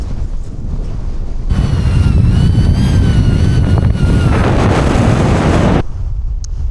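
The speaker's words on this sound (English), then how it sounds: "It is windy up here." Strong wind gusts on an exposed Lake District summit, buffeting the microphone with a loud, continuous roar that rises suddenly and dies away just as abruptly.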